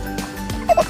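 A wild chicken on a farm gives a brief, close cluck in the middle of a one-second stretch of outdoor background noise.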